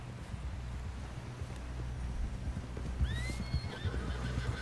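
A horse in Red Dead Redemption 2 whinnies loudly mid-clip over a steady bed of rumbling hoofbeats and wind as the ride nears a camp.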